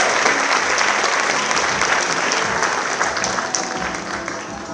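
A crowd at a student award ceremony applauds a Student of Distinction recipient, a loud dense wash of many hands clapping continuously that eases slightly toward the end.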